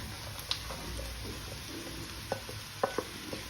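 Okra tossed into a hot pan with fried spices sizzles steadily, with a few sharp clicks and scrapes of a spoon against the pan near the end, close by and without talk.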